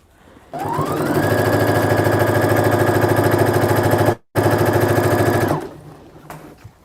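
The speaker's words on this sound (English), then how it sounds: "So what I'm doing is I'm just hemming the edges." A sewing machine hems fabric edges with a loud, rapid, steady mechanical whir. It cuts out for a split second midway, runs on, then stops, leaving a quieter tail.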